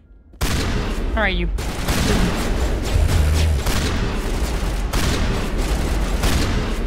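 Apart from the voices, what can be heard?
gunfire in the Mass Effect video game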